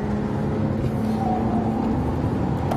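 Bentley Supersports engine at the Nürburgring while downshifting to second gear, a steady, loud, low drone heard from inside the car.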